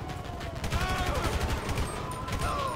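Rapid bursts of gunfire in GTA 5 during a police special-operations patrol against armed attackers, dense and continuous across the short stretch, with a voice talking briefly over the shooting.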